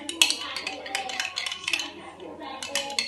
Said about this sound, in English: Let me just get this honey off the spoon.